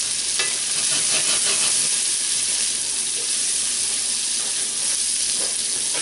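Butter sizzles and crackles in a hot frying pan while cooking beef tenderloin with cremini mushrooms, a loud, steady frying hiss that fills the whole stretch, with no talking over it.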